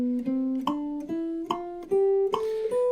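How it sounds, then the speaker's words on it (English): A jazz guitar plays a major scale in even eighth notes at 72 beats per minute, each note plucked cleanly and rising step by step, close and alone, with metronome clicks along with the notes. "So I will set up my metronome here between say 60 and 100 beats per minute,"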